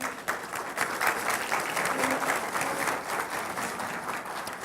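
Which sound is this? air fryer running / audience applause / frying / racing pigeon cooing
audience applause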